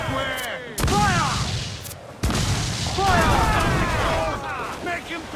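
Ship cannons boom in a naval battle in Assassin's Creed Black Flag, two heavy blasts rolling out amid shouted crew commands and battle noise, loud and close.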